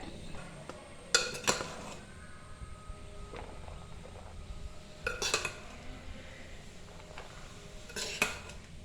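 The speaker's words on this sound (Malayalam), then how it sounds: "ഇനി നമുക്കൊരു സെർവിങ് പാത്രത്തിലേക്ക് മാറ്റാം." Freshly made Kerala-style fried rice being moved into a serving dish, heard as a few sharp clinks and scrapes of utensils against dishes in separate bursts over a quiet background.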